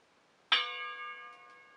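A hefty, solid aluminium pan is struck once, giving a sharp attack followed by a sustained, bright metallic ring like a gong or small gamelan bell that slowly fades, with nothing else heard.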